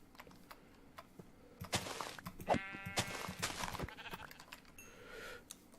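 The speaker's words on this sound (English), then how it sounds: "There's a lot of sheep in this area by the looks of it." Blocky Minecraft sheep bleat several times in a row in the middle of the stretch, fairly close and clear over soft background game noise, with faint clicking like keyboard typing.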